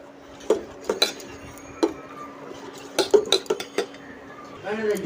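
A spoon clinks against a bowl while powdered milk is stirred into liquid for a Bengali shukto, giving sharp, irregular taps and scrapes, close and moderately loud, with a brief swishing at the end.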